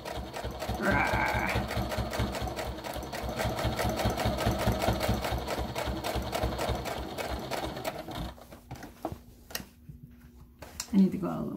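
A sewing machine stitches a makeup brush holder in a fast, steady rhythmic chatter for several seconds, then stops, leaving a few faint clicks and quiet handling noises.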